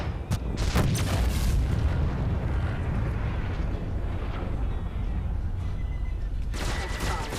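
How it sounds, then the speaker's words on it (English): A ship bailing out in the Star Citizen space game lets off a heavy rumbling boom with crackling bursts, loud and sustained, faint talk underneath. "That big boom right there was actually the other guy bailing out"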